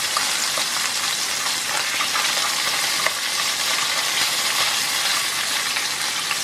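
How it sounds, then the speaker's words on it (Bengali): Tangra fish fry lightly in a pan with a steady, bright sizzle and crackle, loud and close, with occasional small pops and no voices. "খুব হালকা করে মাছগুলোকে ফ্রাই করব"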